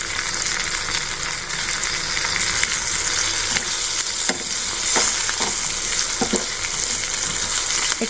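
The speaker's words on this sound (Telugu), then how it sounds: "ఇప్పుడు మిరపకాయలు బాగా ఫ్రై అయిపోయినాయి" Red chillies fry in a pan with steady sizzling and crackling, a continuous close hiss throughout with occasional sharper pops and stirring scrapes.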